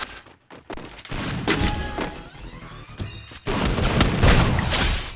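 Rapid bursts of gunfire from the video game Free Fire, loud and close, with rattling automatic volleys and heavy thumps that grow denser toward the end.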